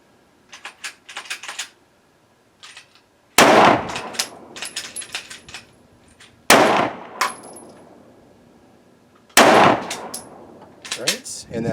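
Taurus G3c pistol firing Sig Sauer V-Crown ammunition at a range: three loud, sharp shots spaced a few seconds apart, each with a ringing tail, among lighter clicks and clatter.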